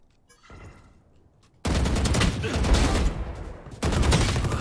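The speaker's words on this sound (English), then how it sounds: "No way, this guy's holding me with the machine gun" Machine gun fire in the shooter game Valorant, a loud continuous rattle of rapid shots that starts abruptly after a quieter lead-in, briefly dips and then resumes, with players talking faintly underneath.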